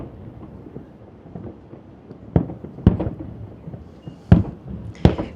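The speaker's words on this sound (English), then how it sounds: "Who doesn't like fireworks?" Canada Day fireworks over Parliament Hill in Ottawa go off as a handful of sharp booming bursts, spaced a second or so apart, over a low rumbling background.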